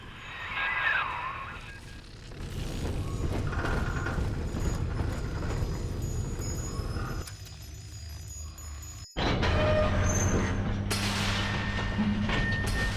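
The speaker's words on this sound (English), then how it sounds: "Take the train to Ryan Amusements." Train ride to Ryan Amusements in the BioShock 2 video game: a steady rumbling, hissing vehicle drone with no voices, cut by a brief break before it returns louder with a low hum.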